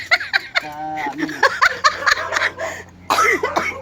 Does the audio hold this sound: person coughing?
yes